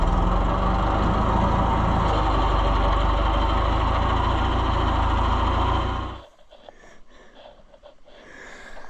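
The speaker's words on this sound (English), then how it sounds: "Let's get the loader tractor out of the way." A loader tractor engine runs loud and close with a steady, rough diesel rumble, then cuts off after about six seconds, leaving quiet background noise.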